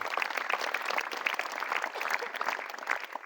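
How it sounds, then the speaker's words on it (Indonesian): An audience at a motivational event at an Islamic boarding school claps steadily, dense, even applause with no voices, sustained throughout. "Tepuk tangan untuk An-Nawa people malam hari ini."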